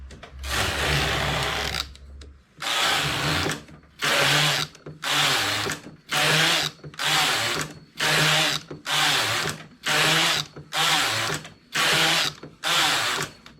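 Knitting machine carriage passing back and forth across the bed of a double-bed machine at tension setting 5, knitting rows for an open cardigan: a steady sequence of about a dozen loud, evenly spaced mechanical whirring sweeps with short pauses between, no talking.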